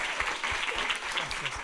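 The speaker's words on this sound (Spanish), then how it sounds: "un aplauso para José también." An audience at a live comedy show in Palermo Teatro Bar claps steadily in dense, mid-loud applause, with some voices mixed into the crowd noise.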